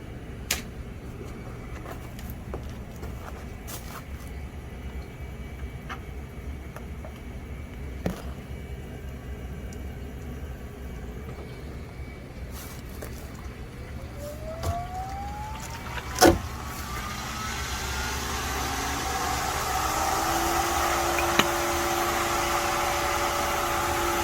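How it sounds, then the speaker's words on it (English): A pool D.E. filter pump starting up, a motor whine rising in pitch after a few clicks and then settling into a steady running hum with a rushing water-like wash. "let's go ahead and fire up the filter pump"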